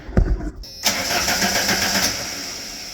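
A car engine cranks over on the starter without catching during a no-start diagnosis, a loud, steady churning that follows a brief clunk and keeps turning for about two seconds.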